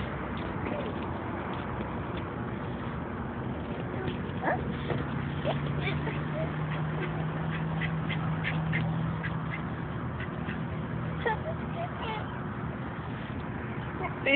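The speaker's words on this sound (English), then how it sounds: "There's another duck." Ducks quack in short, scattered bursts outdoors, fairly faint against steady background noise and a low hum.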